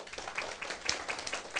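Faint, scattered clapping from an audience at a seminar lecture, a quick irregular patter of hands heard at a distance for a moment and then fading.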